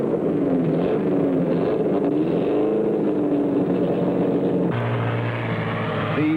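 Race cars lap during 1963 Indianapolis 500 practice, their engines forming a loud continuous roar that shifts pitch as one car's note gives way to another's.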